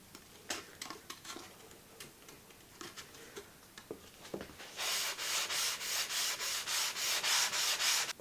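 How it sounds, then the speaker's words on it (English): Sandpaper rubbed over a guitar fretboard to level it flat, first scattered light scratchy strokes, then a loud, even run of rhythmic back-and-forth sanding passes, close up with no talk. "The fretboard has been completely leveled. It is super flat, sanded to 320 grit."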